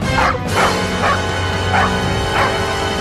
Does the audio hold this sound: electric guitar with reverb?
no